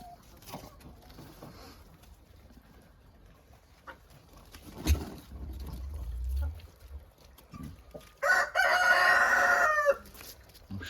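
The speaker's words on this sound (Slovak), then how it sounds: "Kohút." A rooster crows once, loud and close, in a strained drawn-out call near the end, following scattered clucks, low rumbles and quiet background noise around a hen coop.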